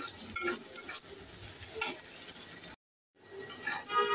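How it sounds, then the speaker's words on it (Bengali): Chopped onions frying in a pan for a hotel-style tomato mash, with steady soft sizzling and occasional stirring scrapes, close up, broken by a brief silent gap near the end. "পেঁয়াজটা ভাজা হয়ে আসছে।"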